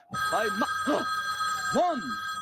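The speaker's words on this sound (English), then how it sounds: "One ring. That's the telephone." An old-style telephone bell rings in a Sesame Street scene on PBS, a steady bright ringing tone running under a voice that sings and speaks in warbling, swooping phrases.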